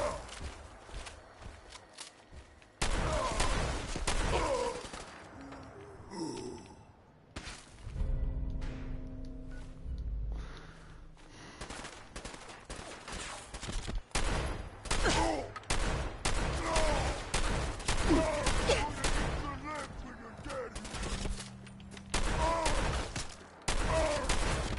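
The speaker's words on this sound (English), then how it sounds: "Takes so many shots to kill them" Gunfire in the Fallout 4 video game: repeated bursts of shots and impacts over a busy, loud combat soundscape, with footstep-like shuffling and brief voices mixed in.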